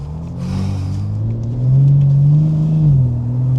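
A BMW M4 G82 engine revs while driving, a deep rumbling drone that swells in pitch and loudness, holds, then eases back, heard close from inside the car.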